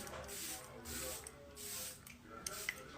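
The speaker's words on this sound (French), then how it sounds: "je mets d'abord le spray fixateur glowy" Several short bursts of glowy makeup setting spray misting from a pump bottle, soft hissing puffs close by, with quiet rustling between them.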